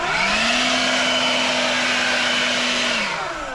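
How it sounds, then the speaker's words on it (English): Snow blower running through wet snow in calm, falling-snow conditions: a steady, loud engine drone with a whining tone that holds for about three seconds, then dips in pitch as the load changes. "Let's blow some snow."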